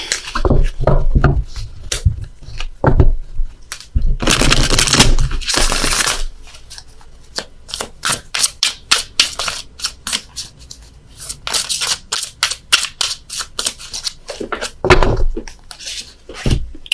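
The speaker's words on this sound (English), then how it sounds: "Dropped a load of cards here on the floor, so I gotta shuffle again." A deck of tarot cards is shuffled at close range in bursts of rapid riffling and sharp flicking slaps, with brief pauses between rounds and a few louder rustling passes.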